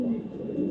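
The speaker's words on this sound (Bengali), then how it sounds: "অনেক টপ কোয়ালিটির একটা নর কবুতর" A male racing pigeon gives a short, low cooing note, close and fairly loud, lasting well under a second with slight background hum.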